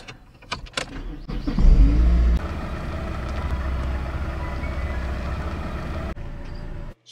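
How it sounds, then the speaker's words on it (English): A car engine cranks with a few sharp transients, catches with a loud low burst, then settles into a steady, close idle hum that runs until an abrupt cut near the end. "I now want you to turn on the car."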